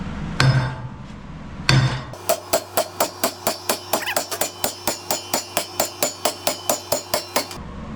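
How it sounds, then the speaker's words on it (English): A hammer strikes metal on a farm, two loud blows and then a fast, even run of about twenty ringing hits, close and clear with no talk. "I need someone who's left-handed to come swing this hammer for me."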